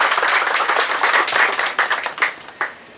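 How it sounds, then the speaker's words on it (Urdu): An audience at a book launch cultural event applauds to welcome a guest, a dense burst of clapping that thins out into scattered claps toward the end. "آپ سب کی تالیوں میں عامر صاحب کا استقبال کریں"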